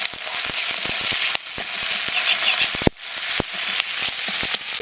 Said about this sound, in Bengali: লঙ্কা বাটা দিয়ে দিচ্ছি। মশলাটা ভাজি হবে, তেল ছেড়ে যাবে